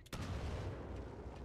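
Grenade explosion in Titanfall 2, a sharp close blast followed by a dense rumbling roar that decays slowly over about a second and a half.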